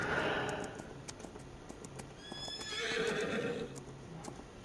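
Horses in Farm Sim 25 whinny in a long, wavering neigh, with a second call near the middle and soft hoof clip-clops ticking faintly underneath.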